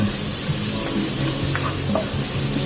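Garlic sautéing in Star margarine in a pan for a liver (higado) dish, a steady broadband sizzle with faint stirring scrapes, continuous and close.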